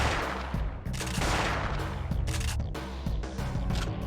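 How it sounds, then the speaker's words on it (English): Repeated shotgun blasts in Parasite Eve II, loud and dense, several booming shots fired in quick succession with no talking over them. "we swap to the shotgun and use it to... The damage from the shotguns is a lot more"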